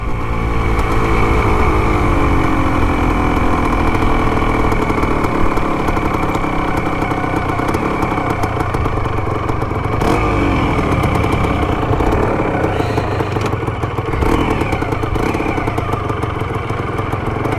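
Restored Can-Am off-road vehicle running on a test ride, its engine idling with a rough, steady clatter and rising now and then into revs, loud and close throughout, with no talk.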